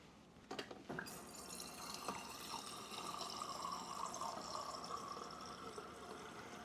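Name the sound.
water filling stovetop Cuban coffee pot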